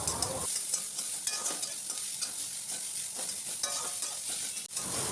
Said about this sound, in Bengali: এবার পেঁয়াজ দিয়ে একটু সময় নাড়াচাড়া করে নেব।